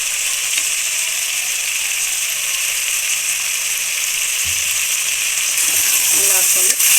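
Coriander powder, garam masala and turmeric frying in hot oil for vegetable pulao, a steady loud sizzle throughout with a few stirring scrapes and clinks near the end.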